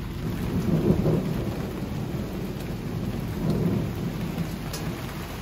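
Rain patters steadily while low thunder rolls and swells twice at a moderate distance, a continuous stormy wash with no one speaking.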